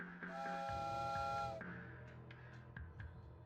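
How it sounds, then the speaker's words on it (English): A train whistle in the video game Depersonalization gives a steady, piercing steam-whistle tone for just over a second. Faint clanking and rumbling continue in the background. "With the sound of the train's whistle"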